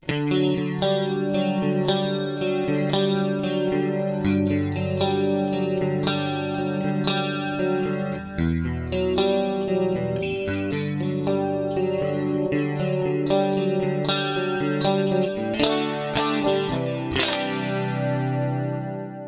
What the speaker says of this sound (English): It's so simple, just a compressor and a chorus, yet it sounds like the golden era of clean sounds